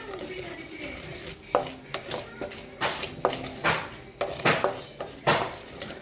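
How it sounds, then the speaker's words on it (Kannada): Cumin and mustard seeds frying in a hot pan while a curd rice tempering is made, with a series of sharp crackles and scraping stirs, a spoon tapping against the metal pan up close over a low sizzle. "ಇವಾಗ ಜೀರಿಗೆ, ಸಾಸಿವೆನ ಹಾಕ್ಕೋಬೇಕು. ಇದನ್ನು ಅಷ್ಟು ಒಂದು 10 ಸೆಕೆಂಡ್ಸ್ ಅಷ್ಟು ಫ್ರೈ ಮಾಡ್ಕೊಳ್ಬೇಕು."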